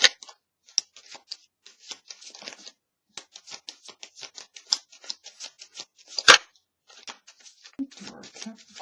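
Tarot cards being shuffled during a reading, a quick run of crisp papery flicks and riffles, close and fairly quiet, with a sharper snap partway through and no talking.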